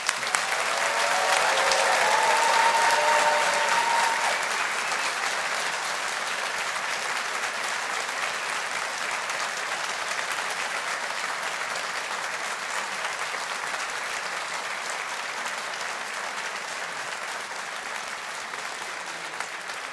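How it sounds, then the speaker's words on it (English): An audience at a university graduation ceremony applauds the 2023 engineering graduates with a long, even roar of clapping, slightly louder at the start and holding steady to the end. "Let's give our graduates of 2023 a big round of applause."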